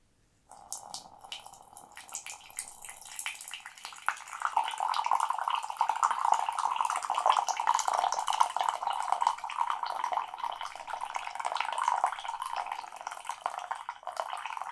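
Coffee pours into a cup at a coffee shop counter, a close, continuous liquid stream with a soft bubbling trickle after a brief silent start, heard alone without talk.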